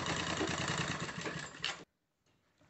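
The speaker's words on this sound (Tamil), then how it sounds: "இப்போ வந்து இந்த ப்ளைன் பீஸு தனியாகவும் இந்த பீஸு வந்து தனியாகவும் வந்து இப்போ தைக்க போகிறோம்." A sewing machine stitches plain and canvas fabric pieces for a school stationery pouch. It whirs loudly and steadily up close, then stops abruptly, leaving near silence with a faint rustle.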